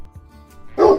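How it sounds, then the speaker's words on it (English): A dog gives a single short, loud bark near the end of a quiet moment, close by and with nothing else audible around it. "Hey, look at that dog!"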